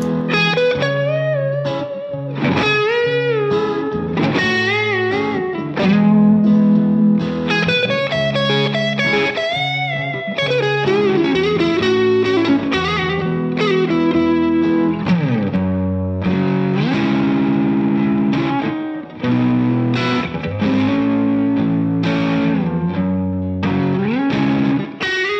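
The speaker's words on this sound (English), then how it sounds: "today we're gonna talk about the Court Jester dual drive pedal. But first, let's hear some sounds" Electric guitar played through a CKaudio Court Jester dual overdrive pedal, thick distorted chords and lead lines ringing out loud and continuous, no talking.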